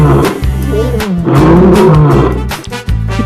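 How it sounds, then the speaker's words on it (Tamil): A deep, loud animal roar that rises and rumbles for a few seconds, with no talking. "அது சிங்கத்தோட சத்தம்."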